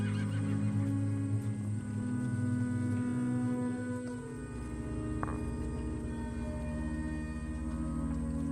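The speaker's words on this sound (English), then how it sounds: "Love that horse." A long horse whinny with a wavering, harmonic tone, fairly loud, then settling into lower rumbling sounds.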